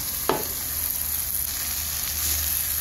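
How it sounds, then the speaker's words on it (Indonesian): Boiled genjer stir-fried with spice paste in a pan over medium heat, a steady loud sizzle with a sharp clatter of the spatula near the start and faint stirring scrapes later. "Aduk-aduk dan tumis hingga tercampur rata dengan bumbunya"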